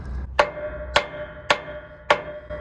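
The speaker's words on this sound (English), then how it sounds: "Hear that thud? Doesn't ring, doesn't echo because it's got the brake pads pushing against it." Four dull metallic thuds struck at an even pace on a truck brake drum locked by its brake pads, each short and dead, with little ringing afterward.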